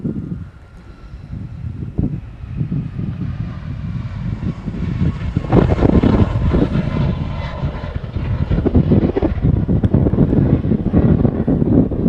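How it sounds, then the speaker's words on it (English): A Qantas airliner arriving from Melbourne at Honolulu airport rumbles as a distant jet engine roar that swells and grows louder, mixed with gusty wind buffeting the microphone outdoors. "We also have Qantas coming in from Melbourne probably over Eva Beach by now."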